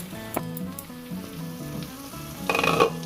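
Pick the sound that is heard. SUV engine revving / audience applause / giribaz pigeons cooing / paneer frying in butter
paneer frying in butter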